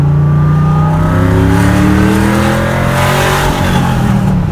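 A supercharged LS3 V8 in a 1,000 hp Chevy Nova pro touring build pulls hard from inside the car, a loud, close engine note with rising harmonics and a steady supercharger whine climbing in pitch as it accelerates, with no talk.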